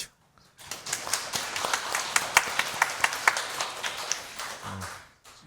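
Congregation clapping for the choir during a Sunday church service, a steady burst of applause lasting several seconds, fairly loud and close, with no talking over it.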